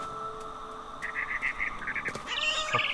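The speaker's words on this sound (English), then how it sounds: "Then I heard chirping outside my window." Short bursts of high bird chirps repeat over a steady electronic hum, with a brighter rising call near the end, close and moderately loud, in What Remains of Edith Finch.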